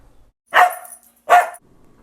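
A dog named Queen gives two sharp, loud barks about three-quarters of a second apart, close by, with quiet in between and no talking.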